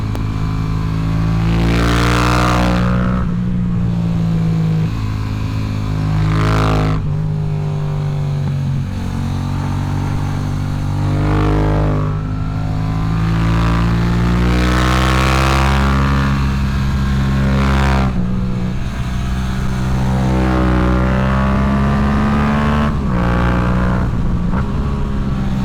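An R3 motorcycle is ridden fast through a series of turns, its engine swelling and falling in repeated rising and easing revs. It passes loud and near, alone without talk.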